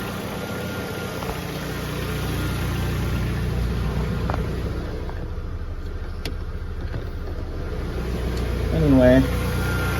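A Chevy S10 pickup engine idles during an R134a air-conditioning recharge, a steady low rumble and hum that runs under someone talking nearby.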